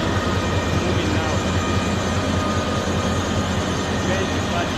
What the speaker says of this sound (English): Train moving now.